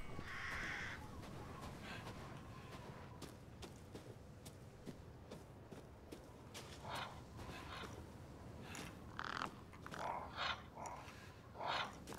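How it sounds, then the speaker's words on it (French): Crows cawing in the video game Resident Evil Village, several harsh calls scattered over a steady ambient game soundscape, moderately loud with no talk. "Il faut des bruits chelous, les corbeaux."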